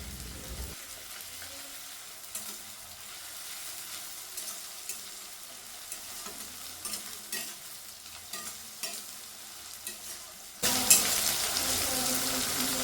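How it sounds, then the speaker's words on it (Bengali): Steady soft sizzling as garlic paste fries in a pan with onions, occasional stirring scrapes, ending in a brighter, louder burst of hiss. "পেঁয়াজটা লাল লাল ভাজা হয়ে গেছে, এবার ওর মধ্যে দিয়ে দিচ্ছি রসুন বাটা।"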